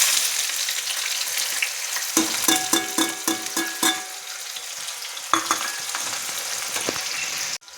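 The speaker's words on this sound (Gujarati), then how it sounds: "લસણ થોડુંક તતળવા દઈશું અને પછી એની અંદર આપણે ડુંગળી નાખીશું." Garlic and onion frying in a pan, a steady close sizzle with bursts of clatter and stirring scrapes, then a quieter stretch before more stirring near the end; no talk.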